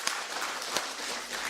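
A church congregation claps during a Simalungun-language Sunday service, a moderately loud, even spread of applause with a few sharper claps standing out.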